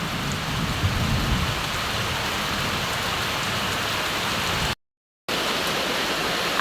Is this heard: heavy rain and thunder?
yes